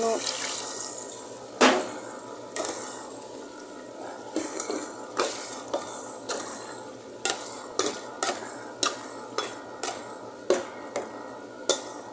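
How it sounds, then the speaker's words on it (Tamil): Water pours briefly into a cooking pot of chicken curry, then a utensil knocks and scrapes against it in a steady series of clinks. "இதில் கொஞ்சம் தண்ணி ஊற்றிடலாம்"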